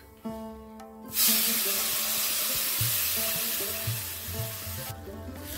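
Milk pours into semolina roasting in a hot pan, setting off a loud, sudden burst of sizzling and steam hiss that lingers steadily, alongside a brief clatter of stirring against the pan and no voices.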